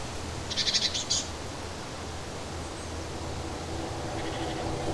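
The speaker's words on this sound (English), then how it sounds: "The birds chirping." Birds chirping outdoors in quiet Montana countryside, a short bright burst of calls over a steady windy hiss, with fainter chirps returning later.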